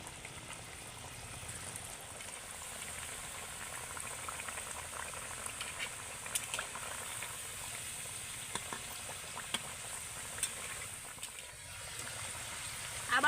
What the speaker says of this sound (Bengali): বাকি পিঠেগুলো একইভাবে ভেজে নেব আবারও